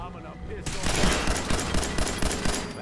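Moby's Dick weapon firing in Fallout 4's Nuka-World, a loud rapid burst of gunfire erupting after a brief lull and continuing as a dense, rattling barrage under faint background game noise.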